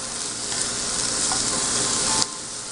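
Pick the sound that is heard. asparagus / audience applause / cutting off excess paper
asparagus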